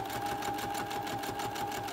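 A sewing machine stitching through paper pages of a junk journal, a rapid steady mechanical chatter with a constant motor whine, close and continuous for the whole stretch.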